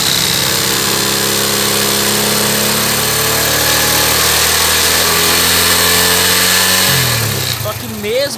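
A motorcycle engine runs steadily at a constant rev during a three-phase stator charging test, a loud continuous mechanical drone with harmonic tones, then drops and shifts pitch near the end as the throttle changes; a voice speaks over it.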